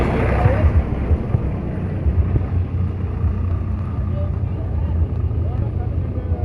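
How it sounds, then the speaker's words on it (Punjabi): A tractor driving past along a flood embankment in rural Punjab, a steady low engine rumble mixed with wind buffeting the microphone, with a voice talking over it. "ਟਰੈਕਟਰ ਜਾ ਰਿਹਾ"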